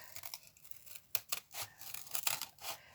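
Scissors cut through an ordinary cardboard box in a series of quick, close snips and tearing crunches, several distinct cuts spaced irregularly over a few seconds, with no talking.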